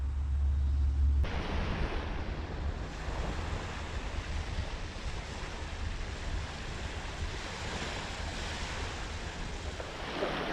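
Blustery wind roars across the microphone at the shore while waves break and surge continuously, a dense, steady rush with no voices.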